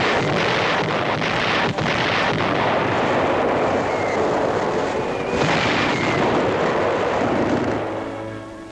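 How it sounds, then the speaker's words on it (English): American artillery firing on advancing German troops in a World War II battle, a dense, continuous roar of booming gunfire and blasts with wind noise on an old newsreel recording, loud throughout. "Yank artillery opens up on the advancing Germans"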